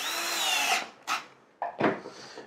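A power screwdriver drives a screw into a Rometal faceted metal profile, a close, high whine that runs steadily then stops, followed by a few short bursts of the motor as the screw seats.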